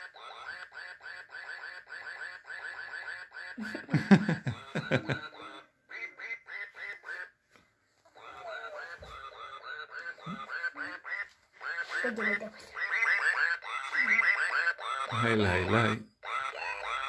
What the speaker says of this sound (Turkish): Böyle şarkı söylüyor bu ördek arkadaşlar